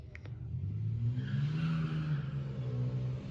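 A car passes with a steady engine drone and rising tire hiss, loud and close throughout and without talk, heard beside an older vehicle whose carburetor keeps flooding.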